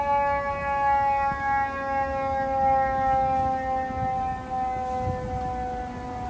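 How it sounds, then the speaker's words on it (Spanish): An emergency vehicle siren on a New York street, a steady wailing tone with stacked harmonics holding for several seconds over low city rumble, no talk. "cuando pasa por aquí una ambulancia, un coche de policía o cualquier cosa así con sirenas"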